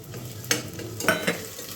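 Onion and garlic paste sautéing in hot oil inside a pressure cooker, a soft sizzle broken by a few quick scraping stirs.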